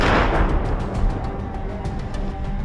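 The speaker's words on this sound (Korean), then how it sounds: "잇따라 주변에서 울리는 포성과 함께 총소리가 들리는데요." A rapid series of distant gunshots and booming artillery fire during Ukrainian army fighting rolls on continuously, sharp cracks over a low, heavy rumble.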